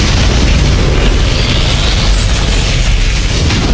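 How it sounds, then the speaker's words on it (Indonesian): A yellow bead explodes in an animated fight scene, a loud, sustained roaring blast that fills the whole stretch with dense, rumbling noise. "Boom, manik kuning itu meledak dahsyat di luar domain langit berkobar."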